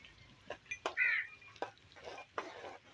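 A spoon scrapes and taps in a pan as ginger garlic paste is stirred into onions, giving a few quiet, sharp clicks spaced out over soft background noise.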